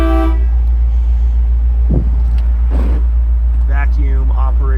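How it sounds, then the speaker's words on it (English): Horn of a 1955 Chevrolet Bel Air convertible with a 265 V8, sounding in several short toots toward the end, over a steady low engine hum with someone talking nearby. "So we do have horns,"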